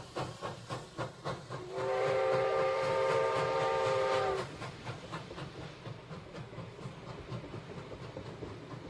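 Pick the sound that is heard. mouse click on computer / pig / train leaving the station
train leaving the station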